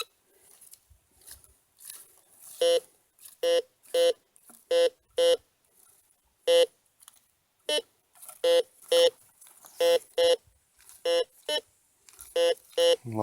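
A metal detector set to discriminate iron gives a series of short electronic beeps at varying pitches, mostly pull-tab signals, chirping in irregular bursts, fairly close, with brief quiet gaps between them, while searching old homesites.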